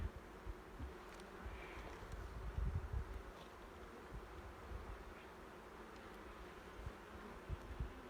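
Honey bees hum around an open hive during an autumn inspection, a steady low drone with scattered nearby buzzes and faint wind noise across the whole stretch.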